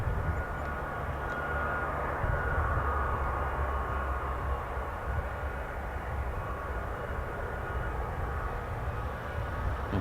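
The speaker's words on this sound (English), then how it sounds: "you can hear those engines of the C-17 just spooling there, powered by 4 Pratt & Whitney" The four Pratt & Whitney engines of a US Air Force C-17 transport jet spool with a steady, loud, broad roar that holds evenly for about ten seconds.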